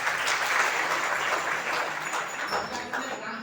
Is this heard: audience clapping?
yes